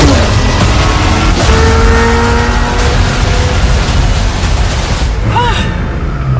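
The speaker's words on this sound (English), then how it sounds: "The reason this car is one of the fastest on the planet is because of its twin turbocharged V8 engine" A supercar with a twin-turbocharged V8 engine and carbon fiber body drives fast, its loud continuous engine roar rising and shifting in pitch with road and wind noise, with faint tire noise near the end.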